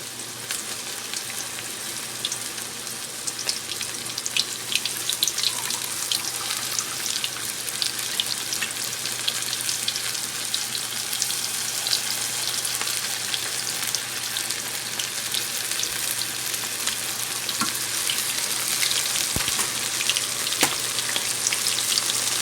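Onion rings frying in hot oil over a medium flame, giving a steady, dense crackle and sizzle with scattered pops throughout, close and alone with no talking.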